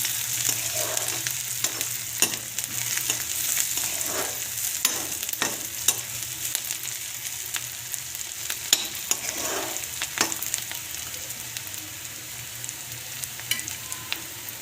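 Tadka tempering for mung dal, spices and onions frying in hot oil: a constant crackling sizzle close up, punctuated by frequent clinks and scrapes of a stirring spoon, with no voices.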